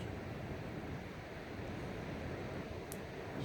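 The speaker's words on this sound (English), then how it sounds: "There's a little bit of a wind today, everybody." Steady gusting wind buffets an outdoor microphone near a grassy field, a continuous low rumbling roar with no breaks, loud and close throughout, no voices present.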